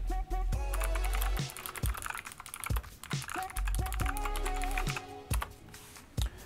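Typing on a SteelSeries Apex 5 hybrid mechanical gaming keyboard, rapid close clicky keystrokes in uneven bursts with a few sharper thuds, set over a loud continuous background bed.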